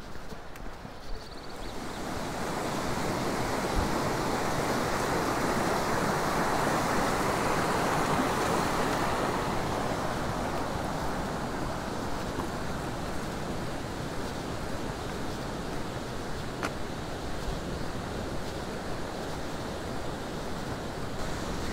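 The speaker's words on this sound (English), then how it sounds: "Here behind is a very nice waterfall." A steady roar of rushing water from a waterfall near Rosenlaui, Switzerland, builds after a quiet start and holds continuous, broad and loud.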